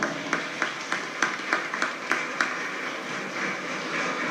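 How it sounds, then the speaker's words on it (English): Applause for two winning schools at a children's Ramayan quiz event, heard as a series of evenly spaced sharp claps, fairly faint and sparse, trailing off into a steady background hum. "give them a round of applause"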